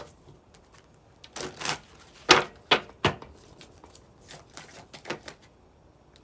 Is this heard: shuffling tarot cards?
yes